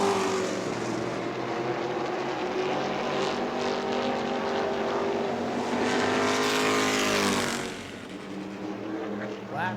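Race cars roar around an oval track at New Smyrna during a late-race laps-to-go event, a loud, sustained multi-engine drone with shifting pitch as cars pass, swelling then easing near the end.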